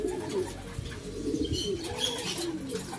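Racing pigeons coo steadily at a club loft during a hard race, soft repeated throaty calls close by with a faint flutter of wings in the background.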